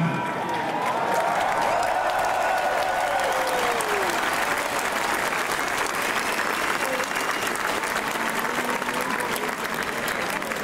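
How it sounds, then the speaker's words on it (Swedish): A large concert crowd claps and cheers at an In Flames metal show at Liseberg in Gothenburg, Sweden, with dense, sustained applause filling the space throughout, no talk over it. "Vi kan, vi kan väl applådera en stund till"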